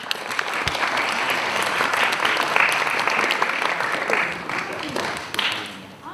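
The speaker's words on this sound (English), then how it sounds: "A warm round of applause for our panel." A live audience claps warmly for a panel at a sixth-form debate show, steady dense applause filling the room for about six seconds without a break.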